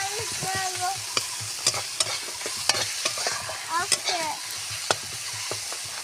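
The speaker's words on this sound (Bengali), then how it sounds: "ভালো করে এটাকে নাড়াচাড়া করে নেব।" Egg curry masala with chilli powder is stirred in a pan, a close spatula scraping and knocking in quick irregular strokes over a constant frying sizzle, with a voice faintly in the background.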